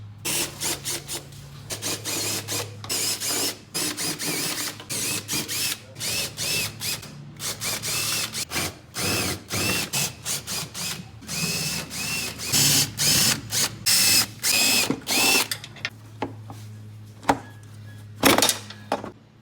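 A power tool spins out the 8mm bolts of the clutch cover on an Outlander Max 570 ATV, loud whirring bursts repeated many times in short stop-start pulses with a ratcheting, mechanical edge, close up and alone.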